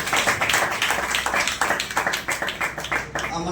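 A church congregation at a Sunday service claps in a quick, steady rhythm of close, crisp hand claps. A voice speaks over part of the clapping.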